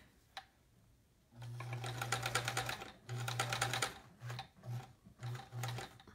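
A sewing machine stitches through a piece of fabric while making a quilt, in close bursts of rapid mechanical whirring and clatter: one long run, a second run after a brief pause, then several short stop-start spurts.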